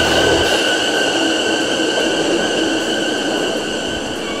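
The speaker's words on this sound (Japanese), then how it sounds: "ただいま2号線に到着の電車は回送車です。" A video game train, a Hankyu 2000 or 1000 series, rumbles loudly and steadily with a high metallic whine as an out-of-service train arrives at a station platform; no voices.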